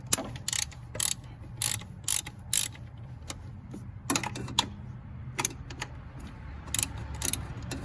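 Ratchet wrench backing out a small 10 mm bolt in the engine bay of a Mitsubishi Montero Sport during spark plug work, close-up bursts of quick clicking strokes with pauses between them and no talking.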